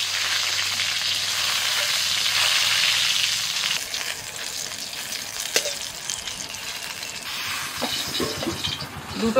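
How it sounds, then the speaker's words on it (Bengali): Potatoes, lightly boiled with salt and turmeric, frying in hot oil in a wok: a loud, continuous sizzle for the first few seconds, then quieter crackling with scattered utensil knocks and scrapes, no talk. "লবণ হলুদ দিয়ে হালকা করে সিদ্ধ করে নিয়ে আলু ভেজে নেব"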